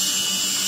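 An electric nail grinder buzzes steadily as it polishes a patient's thickened, curled nail, a continuous close high-pitched whine with no pauses.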